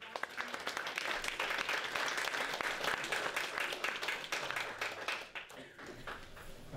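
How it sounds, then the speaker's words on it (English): A room full of listeners gives a round of applause for a speaker at a conference, dense continuous clapping for several seconds that thins out near the end. "So if you can give a round of applause for"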